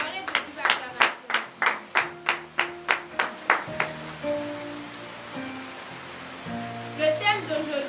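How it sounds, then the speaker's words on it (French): A congregation at a morning prayer service claps in a steady rhythm of about a dozen sharp, close claps, then the clapping fades into murmuring voices and scattered acclaim, with a few more claps near the end. "Donnez de vive acclamation"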